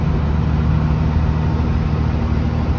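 A Scania truck engine runs loud and close from inside the cab while climbing through a quarry, a steady low-pitched drone held at high revs with no talk.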